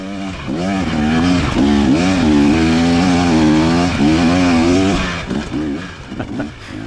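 An off-road dirt bike races up a hill at a motocross event at Crabbe Mountain. The engine is loud and near, revving hard with rising and falling pitch as the rider works the throttle, then eases off near the end.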